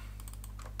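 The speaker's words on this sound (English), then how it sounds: "I'm just going to use my keyboard." A few quick keystrokes tapped on a computer keyboard, close and quiet over a low hum.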